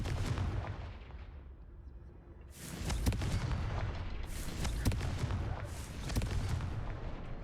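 Confringo blasting spells explode in Hogwarts Legacy, with a series of sharp, booming fire-blast impacts in rapid succession over a rumbling background, fairly quiet overall.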